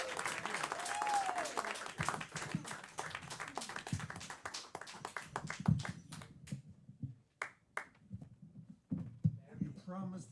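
Audience applause and cheering welcome comedian Mark Lipsky to the stage at a comedy show, loud and dense at first, then thinning into scattered claps and a few whoops as it fades.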